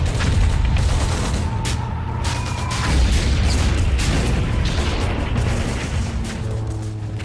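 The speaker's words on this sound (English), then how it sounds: "Rocket launchers, mortars, and 85 machine gun nests tear into the Americans." Combat on Omaha Beach: rockets, mortars and machine guns fire together in a dense, continuous, loud roar of bursts, booms and rattling gunfire, with no speech over it.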